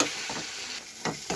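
Masala spice paste frying in oil in a pan, giving a steady broadband sizzle with a few louder bursts as it is stirred.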